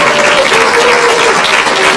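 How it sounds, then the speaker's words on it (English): An audience at a Service Merchandise reunion applauds loudly, a dense, continuous wash of clapping from many hands filling the whole moment without a break. "give yourself a round of applause"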